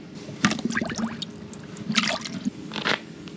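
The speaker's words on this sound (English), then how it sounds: "They say that you're supposed to soak your trimmer wire in water." Trimmer wire is lowered into a bucket of water, giving a few close liquid splashes, drips and squishy sloshes in separate bursts.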